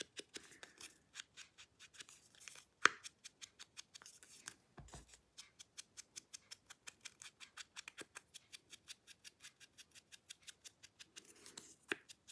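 Scissors snip out a paper heart for a pop-up cascade scrapbook card, a quiet, close run of rapid, regular crisp cuts with a few short pauses and no talking.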